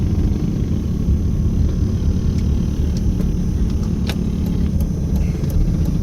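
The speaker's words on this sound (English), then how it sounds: "We've got some more mini bikes and a go-kart." Mini pocket bikes and a small go-kart buzz along the Las Vegas Strip, their small engines blending into a loud, steady rumble of traffic that holds for several seconds without a break.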